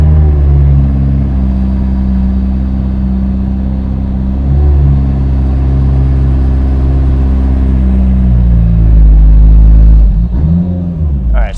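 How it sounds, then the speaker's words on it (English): A Mitsubishi 2G Eclipse engine runs on and off the throttle, a loud low droning hum that holds, eases and swells again, ending with a sharp dip and blip near the end. "Come off the throttle a little bit, hold it. Gradually get back on the throttle."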